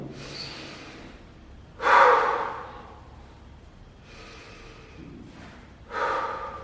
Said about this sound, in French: Je vais faire 2 respirations.